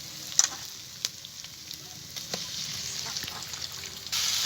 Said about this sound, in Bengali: এবারে ম্যারিনেট করা চিকেনটাকে আমি দিয়ে দেবো